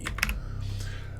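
Computer keyboard arrow keys tapped several times in quick succession, close and crisp clicks with a soft low hum underneath.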